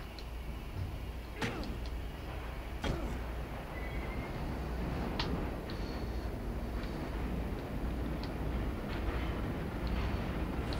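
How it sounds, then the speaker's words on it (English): Subway train ride in the video game Condemned: a constant low rumble of rolling wheels with sharp metallic clanks and squeals breaking through now and then, loud and enveloping throughout. "This is a loud fucking subway."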